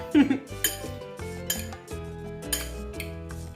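A spoon clinks against a bowl while chopped tomatoes, defrosted hot peppers, onions and cilantro are stirred together for a quick pico de gallo, several sharp metallic chinks over a soft scraping stir, close and without talk.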